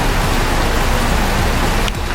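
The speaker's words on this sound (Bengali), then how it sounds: "বাট বৃষ্টির এত সাউন্ড কিছু শোনা যাচ্ছে না" Heavy rain falling during a dull rainy day, a dense, unbroken hiss at a steady loud level that stays constant to the end, with no one talking.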